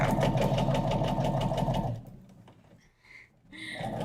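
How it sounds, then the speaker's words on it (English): A sewing machine runs fast and loud for about two seconds with a rapid, even mechanical chatter, then stops, leaving a few quieter clicks and a brief restart. "the sewing machine sound is making you sleepy"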